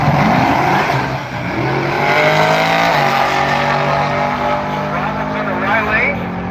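Ford Mustang Fox body drag car launching down the track at Bradenton Motorsports Park, a loud engine roar rising in pitch through the gears over several seconds, with an announcer talking throughout.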